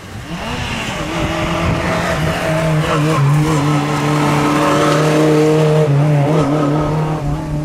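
A Honda S800 historic rally car at a Japanese national championship rally revs hard, its engine note climbing and holding loud and close for several seconds with a slight tire-squeal edge.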